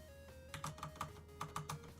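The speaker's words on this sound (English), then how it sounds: "Why am I typing this into a calculator?" Keys tapped while typing numbers into a calculator, about eight light clicks in two quick bursts, close but faint over a low steady hum.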